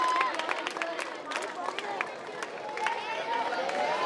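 Audience applause welcoming a teacher at a school alumni meet at JNV Laduna, Mandsaur: a steady wash of many hands clapping that holds throughout, mixed with crowd chatter and scattered shouts.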